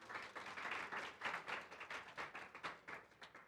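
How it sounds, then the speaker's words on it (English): An audience at a planetarium conference paper session gives the next speaker a round of applause, a lively burst of many hands clapping that swells early and then thins into scattered, tapering claps. "Big round of applause for Jean."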